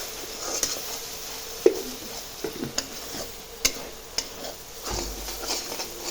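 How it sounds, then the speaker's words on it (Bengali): Potatoes with turmeric and spices are sautéed in a pan for aloo dum, with a soft continuous sizzle and several sharp clinks and scrapes from stirring. "ভালো মতো এখন এগুলোকে কষায় নিতে হবে"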